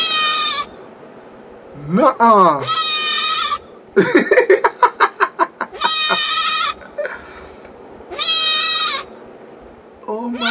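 A goat bleats repeatedly inside a car, loud, harmonic cries in several separate bursts, with people talking and exclaiming in between.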